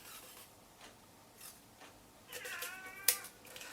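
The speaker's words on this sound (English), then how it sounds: "That would be Fennel, my cat. She's letting me know she's here" A domestic cat meows indoors during a pencil colouring session, a few soft calls rising near the end, faint and somewhat distant over a quiet room.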